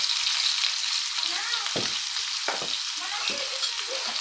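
Chopped onion goes into hot oil for a restaurant-style pasta, giving a steady close sizzle with a few sharp crackles and stirring scrapes and no talk.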